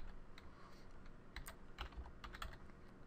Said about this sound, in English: so what we need to do is type